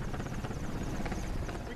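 A military helicopter flies over Sinjar Mountain while its gunners fire at targets below. The rotor and engine make a loud, continuous, throbbing roar close by, and a voice speaks faintly underneath.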